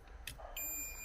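A multimeter in buzzer mode sounds a steady high-pitched continuity beep during a repair of an HP EliteBook x360 motherboard; it comes after a brief click and holds to the end, close and clear.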